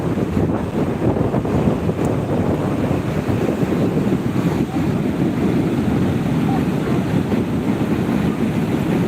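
Sea waves at high tide on Digha beach roar as a steady, dense wash of surf, heavy with wind buffeting the microphone, continuous and loud without clear individual breaks.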